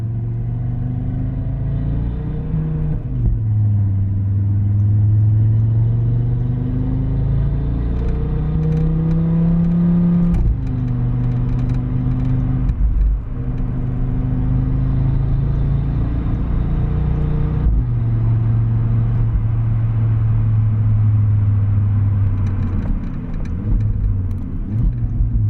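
Audi RS3 with its inline five-cylinder engine running and revving, a loud, throaty rumble that rises and falls in pitch through several acceleration pulls with gear changes, heard close from inside the car without talk.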